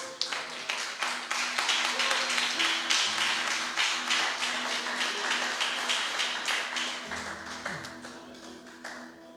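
Church congregation clapping for Jesus during a sermon, a sustained crowd of hands in fast, dense claps that gradually thin toward the end, with background voices and tones beneath.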